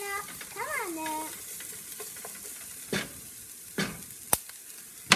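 Carrots cook for bourbon chicken fried rice as a spoon stirs them in a hot pan. A steady close sizzle runs under several sharp scraping strokes, with a brief tonal chime early on.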